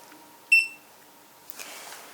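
A Retekess TD177 keypad transmitter from a restaurant paging system gives a single short, bright electronic beep. Quiet handling rustles follow it.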